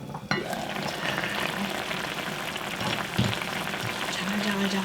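A pot of saury and kimchi jjigae simmering under a lid, giving a steady close bubbling sizzle with a few soft clinks, no talk over it.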